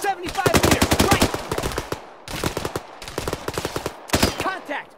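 Machine gun fire in the video game Arma 3 comes in loud rapid bursts, several distinct volleys separated by short pauses, with no talk.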